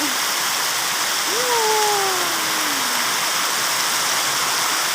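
Steady, dense rain hisses throughout, with a brief voice rising and falling over it near the start.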